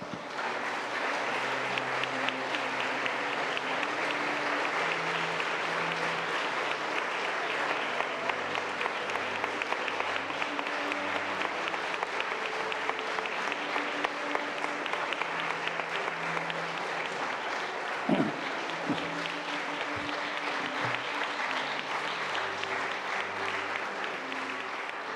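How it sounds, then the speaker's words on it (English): Audience applause fills an award ceremony for the 2017 UNESCO-Japan Prize on ESD, a dense, steady roar of clapping that runs unbroken for about twenty-five seconds. "Please join me in my applause."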